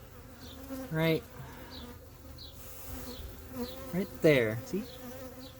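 Honeybees buzzing steadily at close range while a hive split is opened and inspected, a continuous agitated drone with someone talking briefly over it.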